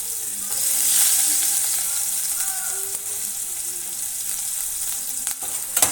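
Finely chopped onion sautéing in a pan with cumin powder for a capsicum curry, a loud continuous hiss of frying with faint stirring sounds and a few utensil taps near the end.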